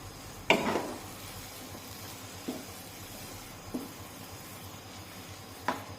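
Spoon scrapes and taps against a pan while mango sheera is mixed after cardamom powder goes in: a few soft, isolated strokes over a faint low sizzle, with long quiet gaps between them.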